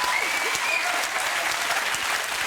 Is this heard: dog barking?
no